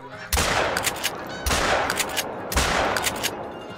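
Three loud, evenly spaced hunting rifle shots in the video game theHunter Call of the Wild, each a sharp close blast followed by a rolling echo tail, roughly a second apart.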